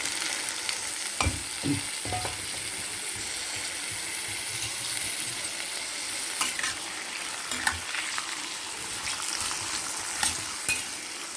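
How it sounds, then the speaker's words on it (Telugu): Potato pieces frying in a few spoons of hot oil, a dense, close sizzle running throughout with occasional scraping stirs and light knocks of a spatula, and no talking. "రెండు మూడు టేబుల్ స్పూన్లు ఆయిల్ పెట్టుకుని కాగాక ఈ ముక్కలు వేసేసి వేయించాలి"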